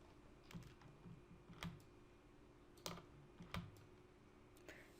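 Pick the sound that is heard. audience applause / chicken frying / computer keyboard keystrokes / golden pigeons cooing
computer keyboard keystrokes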